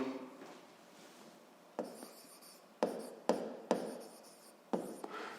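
Pen scratching on paper while working a physics exercise, a soft continuous scribble broken by several sharper taps and strokes, close and alone without speech.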